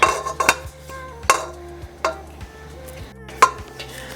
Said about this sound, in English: the first thing I need to do is I'm gonna beat some of this butter together.